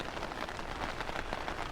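Steady rain falling outdoors, a dense continuous patter of drops on surfaces, moderately loud and unbroken, with no voices.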